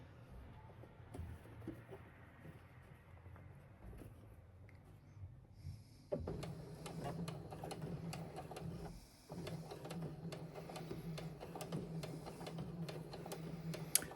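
A sewing machine top stitches a curved seam on a bucket hat, running steadily and close with a fast mechanical patter, first quieter and then louder and continuous after a brief pause.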